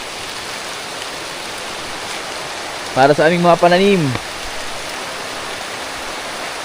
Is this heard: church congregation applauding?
no